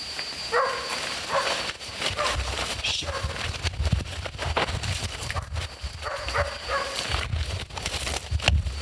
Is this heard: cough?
no